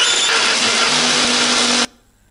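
A blender grinds turmeric, shallots, garlic and curly red chilies with a little water, a loud steady whirring roar that runs for almost two seconds, then cuts off abruptly into near silence.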